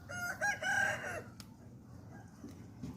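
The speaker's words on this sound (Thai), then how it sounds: "ไก่นี่ก็ขัน นะกันตั้งแต่เช้านะคะ" A rooster crows once, fairly close and loud, its drawn-out call lasting about a second, followed by quiet outdoor background.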